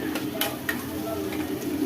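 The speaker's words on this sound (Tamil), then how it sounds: "இப்போ இதையும் சேர்த்து நல்லா வதக்கிக்கலாம்." Finely chopped large onion sautéing in a pan for a Tamil seppankizhangu (taro root) kuzhambu, giving a steady close sizzle with a few light stirring scrapes and clicks, no voices.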